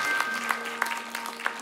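An audience claps at a poetry concert, a soft steady patter of applause from a crowd, fairly distant and even throughout the short stretch.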